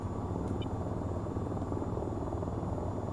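Helicopter flying in the video game VTOL VR: a loud, continuous rotor drone with a steady rhythmic chop, close and unbroken throughout.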